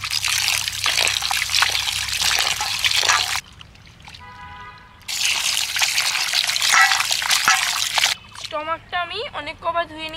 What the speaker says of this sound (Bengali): এবার পরিষ্কার করে অনেক কবার ধুয়ে নেব